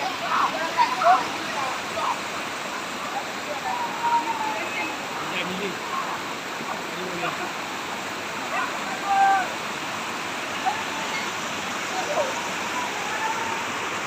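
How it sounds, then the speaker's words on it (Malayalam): Constant rushing roar of Seetharkundu waterfall near Kollengode, Palakkad, fills the background while faint voices talk over it now and then. "അവിടെ വെള്ളച്ചാട്ടം ഉണ്ടല്ലോ"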